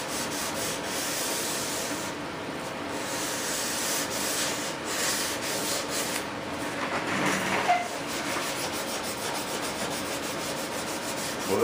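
Wings for a model F-18 are sanded by hand in a steady rhythm of close, dry rubbing strokes that run on continuously.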